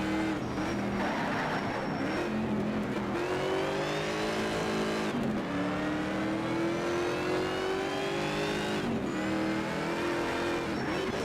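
A race car engine in Need for Speed Shift 2 roars at high revs, climbing through the gears with brief drops between shifts and a faint tire squeal, loud, close and continuous throughout.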